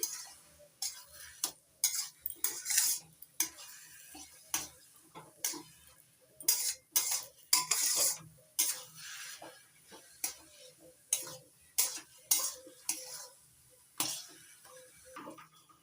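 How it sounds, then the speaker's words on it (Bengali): Semolina upma is stirred with hot water in a pan, giving a series of irregular clinks and scrapes of the spoon against the pan, close and fairly quiet, with brief pauses between strokes. "দুই বাটি গরম জল দিয়ে দিচ্ছি এবার ভালো করে মিশিয়ে নিচ্ছি"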